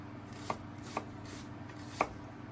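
A knife chops an onion on a board, three distinct quiet thuds spaced irregularly over a faint steady background hum.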